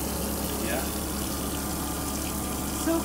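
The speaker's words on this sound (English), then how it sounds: "And it's going down the drain." Water flows from a tap and drains into a sink inside a school bus converted into a home, a steady, loud rushing gush that lasts throughout, with a faint voice underneath.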